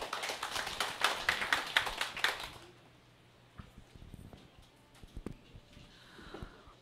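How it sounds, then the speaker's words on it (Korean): Enthusiastic audience applause greets a team leader stepping up at a company assembly. Dense, lively clapping lasts about two and a half seconds, then thins out to a few scattered claps and faint room noise. "다음은 우리 이화순 팀장님 나오실 때 큰 박수 부탁드리겠습니다."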